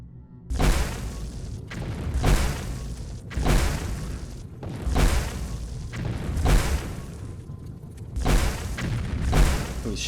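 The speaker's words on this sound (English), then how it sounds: "Oh, he's shooting magic back." Enemy mage casting magic spells in the Morrowind video game: a string of loud, booming blasts, roughly six heavy bursts spaced a second or so apart, each with a broad rumbling decay.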